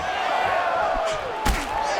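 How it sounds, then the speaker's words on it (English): An arena crowd in the UFC 5 fighting game roars and cheers at a stand-up exchange, a sustained, swelling roar with a sharp impact slap partway through. "Yeah, the crowd loves the stand-up fight."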